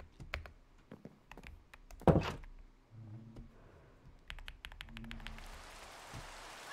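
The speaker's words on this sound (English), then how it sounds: "No, it's raining!" Rain in the video game Minecraft: a soft hiss swells toward the end, with scattered clicks and a heavier thump early on, all fairly quiet.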